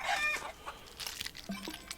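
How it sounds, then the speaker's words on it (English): Short clucks from a small chicken in the game CryoFall, a few quick bright calls then a lower cluck, fairly near and alone with no talking. "Let's go grab a chicken."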